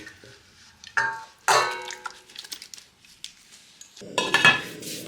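Marinated chicken being moved into a cooking pot, heard as a few sharp clanks and scrapes of metal utensils against cookware, bunched in two bursts with quiet gaps between.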